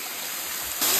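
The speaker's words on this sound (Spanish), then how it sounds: "Y vean el chorro de cascada que hay." Waterfall at El Meco in San Luis Potosí, a steady close rush of falling water that swells louder near the end, with no voices.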